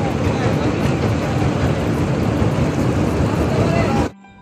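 A trawler boat cruising along a canal in the Sundarbans gives a loud, steady engine rumble with wind buffeting the microphone, running without a break for about four seconds before it cuts off abruptly.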